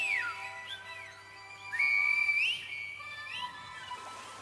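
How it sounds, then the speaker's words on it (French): Whistling in Silbo, the whistled language of La Gomera in the Canary Islands: a series of clear, piercing whistled tones that glide and hold, with short sliding phrases and pauses, set over a faint steady background hum. "prêt à siffler dans le vent"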